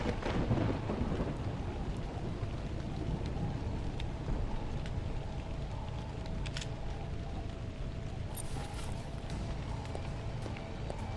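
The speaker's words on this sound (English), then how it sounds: "If only it wasn't raining." Steady video-game rain hisses throughout with low thunder rumbling, starting stronger and settling into a constant downpour.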